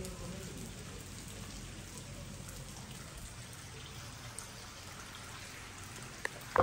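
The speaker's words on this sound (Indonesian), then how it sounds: "ini sekarang kabut makin tebal dan hujan." Steady rain falls in thick mountain fog at the Malino Highlands Resort, a continuous soft hiss of drops on surfaces filling the whole stretch with a couple of brief knocks near the end.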